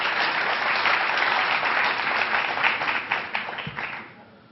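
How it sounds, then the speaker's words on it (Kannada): An audience at a Bangalore North candidates-meet-citizens event applauds to welcome the Lok Sabha election candidates, a dense, sustained burst of clapping that holds steady, then tapers off toward the end. "ದಯವಿಟ್ಟು ತಾವು ಚಪ್ಪಾಳೆ ತಟ್ಟಬೇಕು."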